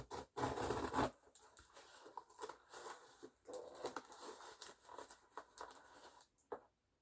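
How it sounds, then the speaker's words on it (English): Scissors score and slice a cardboard box, making close, quiet scraping and tearing strokes in irregular bursts with short pauses, and no voices. "might need the scissors just to score this again"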